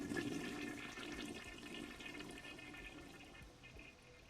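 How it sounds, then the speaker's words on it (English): Running shower in the Steins;Gate visual novel, a steady hissing rush of water that holds for the whole stretch at moderate volume and tapers a little toward the end, with no other sounds. "I jump at the sound of a running shower."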